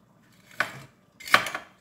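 Shawarma gratin ingredients with olive oil being mixed in a dish, giving two short, close scraping clinks of utensils against the container, separated by a brief pause.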